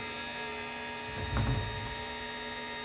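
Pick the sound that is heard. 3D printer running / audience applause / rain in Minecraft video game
3D printer running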